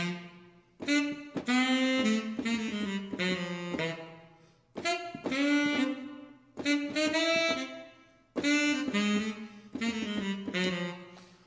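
Virtual tenor saxophone playing a melody of short and long notes in four phrases separated by brief pauses, clear and upfront with no voices.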